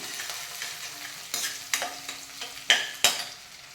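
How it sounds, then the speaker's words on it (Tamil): Finely chopped ginger and garlic frying in hot oil, a soft continuous sizzle broken by several sharp utensil clicks and stirring knocks, close and clear with no voices. "இஞ்சி பூண்டு ஒரு சின்ன துண்டு பொடி பொடியாக கட் பண்ணுது. நல்லா இந்த ஃப்ளேவர் ஆயிலில் இறங்கட்டும்."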